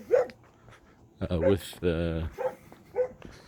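A dog barks several times in short bursts, fairly close, mixed with someone talking over and between the barks outdoors.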